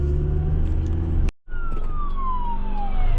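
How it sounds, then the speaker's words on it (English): Police cars speed past on a road heard from inside a moving car: steady engine and road rumble, then after a brief cut a loud siren wail sweeps downward in pitch as the vehicles go by. "Now even more police, and they're driving even faster."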